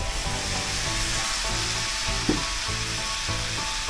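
Vegetables hit a hot pan for a Filipino vegetable dish, giving a steady, close sizzle with a brief sharper crackle partway through and no talking.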